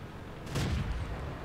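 A tank cannon firing in a tank video game, a single muffled boom with a short rumbling tail over steady engine noise, with no talk.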